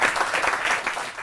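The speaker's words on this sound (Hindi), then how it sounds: "जोरदार तालियां।" Loud, dense applause from an audience at a New Year poetry gathering bursts right after a recital, a brief full wash of clapping heard alone.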